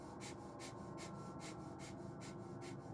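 Rapid rhythmic breath of fire during a Kundalini breathing exercise, sharp forceful nasal exhalations pulsing about three times a second, close and steady over a faint background hum.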